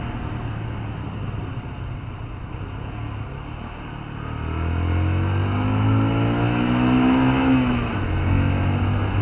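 A 2013 Yamaha Byson motorcycle engine accelerating in first gear, a steady idle rising into a strong, close revving pull that climbs in pitch and then eases off, heard alone.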